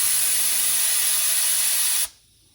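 A loud, steady close hiss as air is let out of a car tire's valve stem, lasting about two seconds before cutting off abruptly to near silence.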